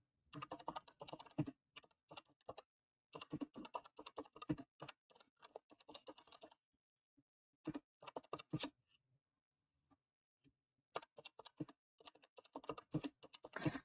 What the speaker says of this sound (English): I'm just going to type some things